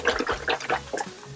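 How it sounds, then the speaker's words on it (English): Broth poured into a pot of keto chicken soup: brief, close glugging and splashing of liquid in quick irregular pulses. "so now we're gonna add all the broth in"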